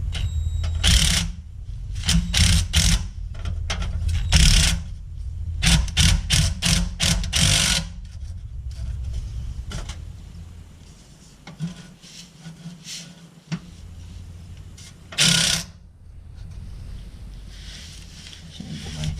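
Bolts on a car's rear end being tightened, with bursts of loud, fast ratcheting clatter separated by quieter pauses, close by and repeating several times.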